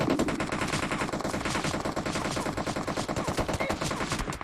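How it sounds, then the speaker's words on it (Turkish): Rapid, sustained automatic gunfire in the PUBG Mobile video game, bursts of shots spraying toward the player in a fast rattling rhythm that fills the whole stretch, fairly close and moderately loud. "Lan biri beni tarıyor. Nereden tarıyor ya?"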